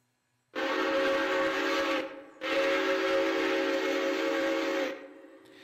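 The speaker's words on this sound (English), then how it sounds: "I did change my whistle on the train, so it is different now." Two long blasts of a steam-style train whistle, a rich chord held about a second and a half then nearly three seconds, loud and close with no talking.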